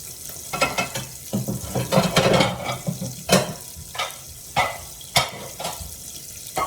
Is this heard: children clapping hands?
no